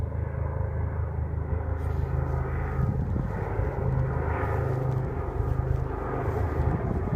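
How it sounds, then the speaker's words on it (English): A steady, loud engine drone from two Super Lynx helicopters flying overhead above open hill country near a wild campsite, rumbling continuously without letting up. "Looks like two Super Lynx helicopters then."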